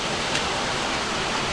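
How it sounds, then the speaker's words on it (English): A waterfall at a rocky beauty spot, a loud, steady broadband roar of falling water that fills the whole stretch without a break. "very interesting place, fantastic waterfall"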